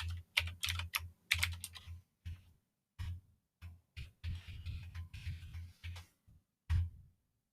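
Keys on a computer keyboard tapped in short bursts as a password is entered, crisp close clicks in irregular clusters with brief pauses, ending on a single firmer keystroke.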